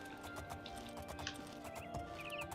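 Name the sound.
horse hooves clip-clopping in Oblivion video game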